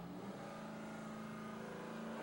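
An engine revs hard at a fire drill team contest, a sustained loud droning roar with steady harmonic tone, heard alone without talk.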